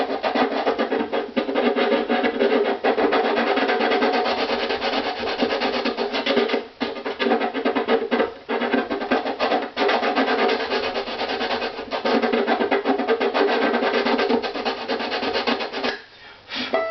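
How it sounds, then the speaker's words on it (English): Sandpaper rubs steadily over the top of a violin bridge, a close, continuous scratchy back-and-forth sanding with brief pauses, and nobody speaking. "I'm just going to use the sandpaper side and just generally sand."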